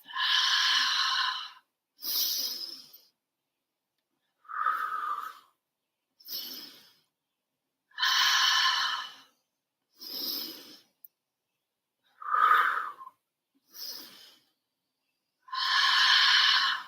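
Slow, deliberate breaths in a standing breathing exercise, each one a long airy exhale or inhale separated by silence, close and clear, repeating about nine times in an even rhythm.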